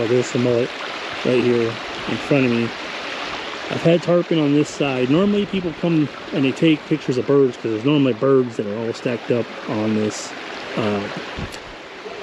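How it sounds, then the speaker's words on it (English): Water rushes into a culvert at J.N. "Ding" Darling refuge as a steady broadband wash under someone talking continuously outdoors, with gusty wind buffeting throughout. "the water wasn't rushing into this culvert like it is"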